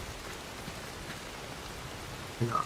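Rain falling in the survival game Soulmask, a steady even hiss of drops on surfaces, moderate and unbroken, with a short brighter patter near the end and no talk.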